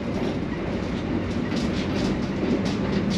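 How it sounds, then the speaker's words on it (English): An Argo Bromo Anggrek luxury sleeper train runs on old narrow-gauge track between Jakarta and Surabaya. A steady, heavy rumble is heard from inside a car, with rhythmic wheel clatter and faint rattling and no talk. "The tracks on this line are narrow gauge and old, making the ride very bumpy."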